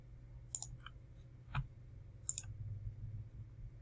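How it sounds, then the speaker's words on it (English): Two sharp computer mouse clicks, a right-click while organizing bookmarks, land close together near the start and again later, crisp and close over a quiet room hum. "we're going to right click"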